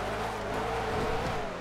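A high-speed car engine roars in GTA 5 during a fast race, a loud continuous drone with harmonic bands that holds steady and close for the whole stretch, with no talk over it.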